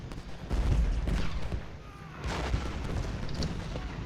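Skirmishers trade scattered musket fire in Ultimate General Gettysburg. The distant, overlapping pops and dull booms arrive in irregular bursts over a constant battlefield rumble.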